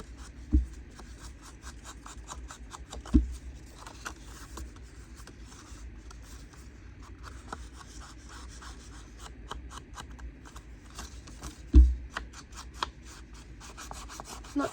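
Paper edges are rubbed to remove the white while making a junk journal: soft, rapid scratchy strokes repeat steadily, with a few sharp taps in between, quiet and close.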